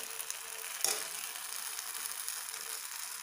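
Pearl millet paniyaram batter, just poured into the wells of a kuzhi paniyaram pan, gives off a soft, steady sizzle with a faint crackle, heard alone at low volume.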